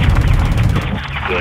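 Dense, rapid gunfire from a Call of Duty: Modern Warfare II mission as a convoy is engaged, loud and rumbling for about a second before thinning out, with radio voices running underneath.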